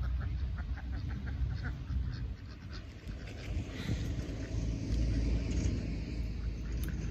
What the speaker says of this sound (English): Gotta wait for this bus or whatever it is to pass by.